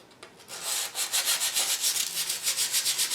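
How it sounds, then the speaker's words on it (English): Light sandpaper rubbing between the metal vanes of a 1920s Chelsea Model No. 1 variable condenser under restoration: a close, steady run of quick back-and-forth scratchy strokes in an even rhythm, with no talk. "I'm just going to go ahead and just lightly sand between these veins"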